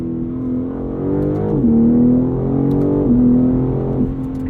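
A 2021 BMW M3 Competition exhaust burbles and pops in repeated bursts, each swell of throaty engine tone dropping off sharply with crackling overrun between them, heard close from inside the car.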